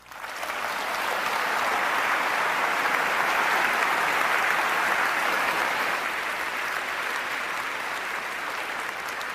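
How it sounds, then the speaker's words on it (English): A debate audience breaks into sustained applause that swells within the first two seconds and stays dense and steady, then eases slightly toward the end. "Then hold your applause, for heaven's sake."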